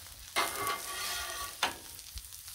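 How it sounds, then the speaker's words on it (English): Vegetables being stirred on a hot Blackstone griddle, with a steady sizzle and two sharp scraping strokes of a spatula, close and fairly loud. "Give these a stir here."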